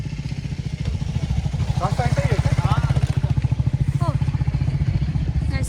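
A motorcycle engine chugs steadily and close by on a trekking trail up to Visapur fort near Pune, its rapid pulsing throb continuous throughout, with brief voices heard over it.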